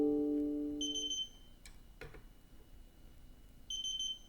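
A torque wrench gives a tonal beep, then later a second short beep repeats on reaching 29.5 during scope mounting on a scout rifle, with light metallic clicks and a tool hum in between.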